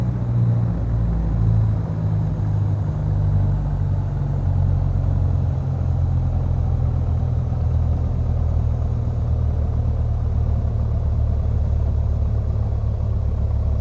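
Piper Arrow III piston engine idling in a flight simulator, a steady low rumbling drone with a deep throbbing pulse, continuous and even throughout with no talk.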